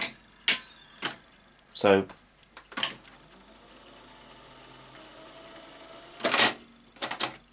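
A Sony SL-C7UB Betamax video recorder retracts its tape during eject, giving sharp mechanical clicks and clunks, a whirring motor burst, then quieter gear noise and a final cluster of clatters, close up with a brief spoken word.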